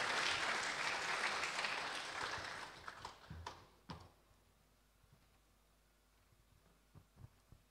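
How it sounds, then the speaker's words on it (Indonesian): Lecture-hall audience applause after a talk, broad steady clapping for about three seconds that thins into scattered claps and quiet room noise with a few soft thumps. "Mari kita berikan tepuk tangan sekali lagi bagi Dr."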